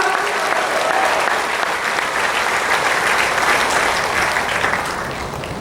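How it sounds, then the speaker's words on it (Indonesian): A church congregation at an evening service in Batam, Indonesia, applauds loudly and steadily throughout, easing off slightly near the end. "Beri Dia tepukan."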